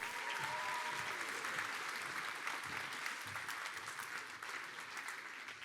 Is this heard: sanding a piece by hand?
no